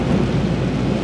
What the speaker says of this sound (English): That's right, that was thunder from the Lord.